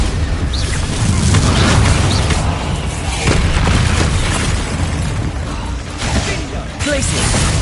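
Spell explosions in Hogwarts Legacy gameplay, with repeated booming blasts and crackling bursts one after another amid constant loud battle noise, while a voice shouts spell names.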